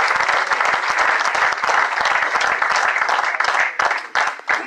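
A church congregation claps together in a Spanish-language service, producing loud, dense, close applause with rapid individual claps that carries on steadily and then breaks up toward the end.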